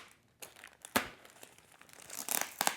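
Package for Sunlu PETG 3D printer filament being opened by hand, with crinkling and tearing of plastic wrap in several short bursts, growing busier toward the end, close and moderately loud with no talk.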